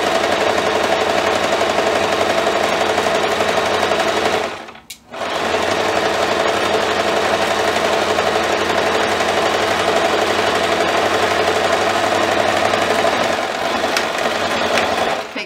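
A sewing machine stitches a dish towel, its needle hammering in a fast steady run that breaks briefly as it reverses to back-stitch, then carries on loud and close.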